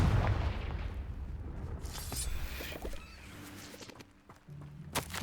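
A Confringo fire spell from Hogwarts Legacy bursts with a loud, broadband blast, followed by crackling impacts and rumbling debris over several seconds amid game ambience.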